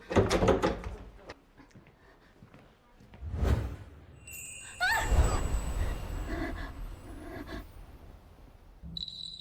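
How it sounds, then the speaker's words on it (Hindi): A door is tried but will not open, with a few dull knocks and rattles, a scraping slide and clunks at close range in an indoor drama scene, mixed with faint background noise. "यह दरवाजा खुल क्यों नहीं रहा?"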